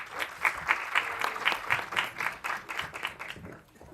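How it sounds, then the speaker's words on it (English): An audience at a short-film preview event applauds, a steady stream of hand claps with rhythmic peaks that holds for a few seconds and then tapers off, with faint cheering mixed in. "A round and a long applause for Green Sea Entertainment and Mr. Aniket Badame"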